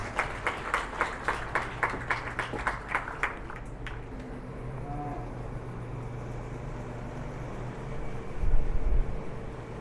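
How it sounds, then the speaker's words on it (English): Applause at a livestock show with heifers in the ring: a brief burst of rhythmic clapping for about four seconds that fades into a low hum of background noise and rumble. "I'd like a big round of applause for them now."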